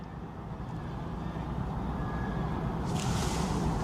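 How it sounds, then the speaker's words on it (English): Air Canada airliner passing overhead at sunrise, a steady low jet engine roar that builds slightly, with a brighter hiss rising toward the end, heard from a distance with no talk. "we might be able to hear the roaring engines"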